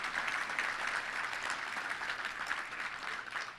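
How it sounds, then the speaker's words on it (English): A luncheon club audience applauds its volunteers with steady, sustained clapping that holds at a moderate level throughout, with no talk over it. "Let's give all of our volunteers a great round of applause."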